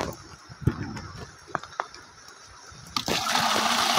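Water gushes steadily into a filled reservoir, a faint rushing flow broken by a few sharp clicks and splashes, then swelling to a louder, fuller gush near the end.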